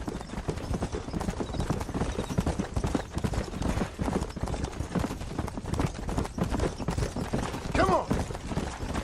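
Horses gallop continuously while herding cattle in the Red Dead Redemption video game, a dense rapid clip-clop of hooves throughout, with a brief whinny near the end and game voices mixed in.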